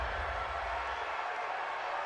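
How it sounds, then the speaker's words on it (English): A football stadium crowd at a Jaguars–Texans game reacting to a roughing-the-passer penalty, a dense, steady roar of many voices filling the whole moment without letup. "this crowd does not like that call"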